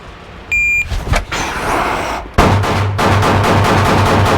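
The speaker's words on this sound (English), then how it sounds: "So same target, 10 shots, 5 seconds." A rapid string of gunshots fired at a B8 target from 5 yards, sharp loud cracks coming in quick succession after a few isolated reports, with no talk.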